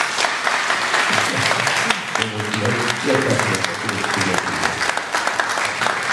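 An audience at a cultural centre event applauds steadily and warmly throughout, with a voice speaking briefly over the clapping midway.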